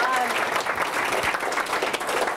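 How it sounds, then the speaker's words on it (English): Sustained audience applause fills a lecture hall after a transportation talk, a dense steady wash of many hands clapping at once, loud and even throughout with no break. "So they deserve at least as much applause as anybody else."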